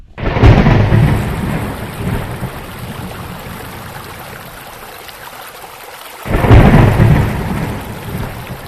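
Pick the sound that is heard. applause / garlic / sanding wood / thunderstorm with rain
thunderstorm with rain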